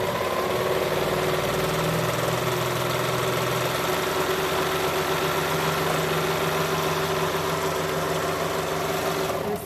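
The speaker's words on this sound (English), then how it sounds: "I'm going to serge around that edge." A serger sewing machine trimming and stitching the rounded edge of a fabric face mask, a loud continuous mechanical whir with a rapid steady hum that runs unbroken throughout.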